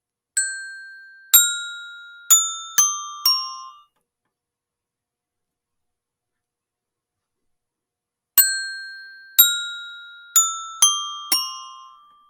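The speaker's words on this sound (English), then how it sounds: "Make sure you're playing in the middle of the bells as you go." Barred instruments with bell-like bars ring out in a fourth-grade music class: a group of five clear metallic strikes, a few seconds of silence, then a matching group of five. Each note rings sharply and decays.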